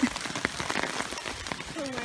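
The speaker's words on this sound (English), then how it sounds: "Oh, it's starting to rain really hard." Heavy rain patters steadily outdoors where a small dam is being built, a continuous close hiss with a few sharper drips and knocks, and a brief voice-like tone near the end.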